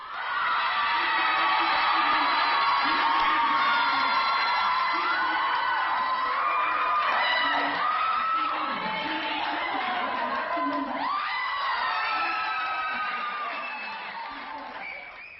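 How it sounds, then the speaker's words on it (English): Women cheer, whoop and shout together in a loud, sustained burst of celebration as news breaks on a TV, high excited voices overlapping throughout and easing off slightly near the end. "You see all the women up cheering and celebrating."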